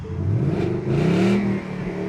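A 2020 Ford Mustang GT engine revs briefly in normal mode, rising in pitch then falling back to idle, close and loud with no talking.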